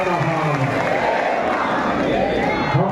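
Crowd at a Hindu spiritual gathering of a sant in Bastar clapping and cheering in applause: a loud, dense, continuous wash of hands and voices filling the space without pause.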